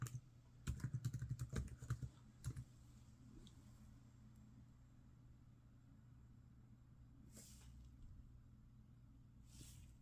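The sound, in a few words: typing a password on an HP Stream laptop keyboard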